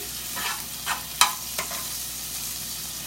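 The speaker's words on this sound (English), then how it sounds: "We got the bacon sauteing" Bacon sautés in a pan with a soft, steady sizzle, broken by several scraping stirs of a utensil, one sharper clack near the middle, all fairly quiet and close with no talking.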